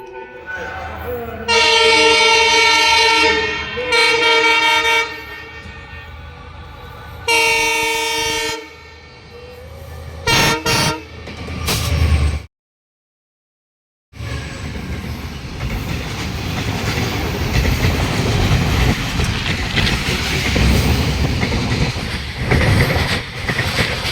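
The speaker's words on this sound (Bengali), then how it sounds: "একটা ট্রেন আসছে ফ্রেন্ড" A passenger train on railway tracks at New Jalpaiguri sounds loud, repeated horn blasts with strong harmonic bands, then a brief cut to silence, followed by a steady, broad rumble of the train rolling past.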